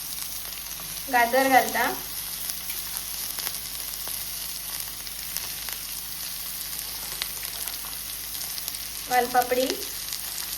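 Vegetables sizzle steadily in hot oil while being sautéed for veg pulao, with carrots, cauliflower and flat beans added to the pan. The frying hiss is soft and continuous, and someone speaks briefly twice over it.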